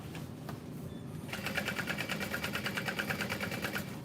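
A sewing machine stitching a handmade bowler bag, its fast even needle chatter starting after a second of quiet room tone and running steadily, close but soft.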